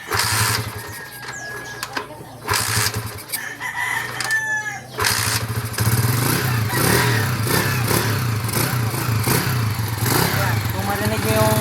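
A Honda TMX motorcycle engine idles and revs close by, a steady rumbling drone that grows louder and fuller after a brief lull, with a rooster crowing in the background.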